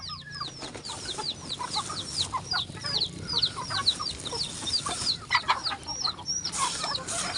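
Backyard chickens clucking and calling while being fed, a busy chorus of repeated clucks and squawks close by, with an occasional rooster note, no talk.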